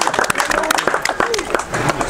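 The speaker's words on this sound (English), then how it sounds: "Give her a round of applause." An audience at a cricket club event applauds a speaker: dense, rapid clapping from a crowd, with voices talking over it.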